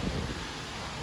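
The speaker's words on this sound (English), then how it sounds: "And this is probably really windy." Wind gusting across an open yard, a dense rumbling buffet on the microphone lasting about a second, with no voices.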